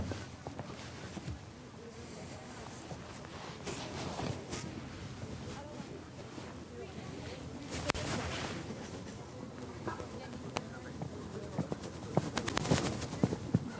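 Horse hooves clip-clop on a show jumping course at Ecaussinnes, a steady rhythmic patter of moderate loudness beneath crowd bustle and occasional voices.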